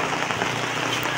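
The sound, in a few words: heavy rain falling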